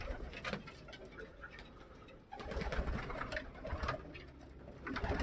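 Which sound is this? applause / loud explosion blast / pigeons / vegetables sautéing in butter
pigeons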